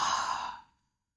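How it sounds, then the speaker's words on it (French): A single long breath leaves through the mouth during a bedtime yoga breathing exercise, a soft airy sigh that fades out to silence after under a second. "tu inspires et tu expires par la bouche"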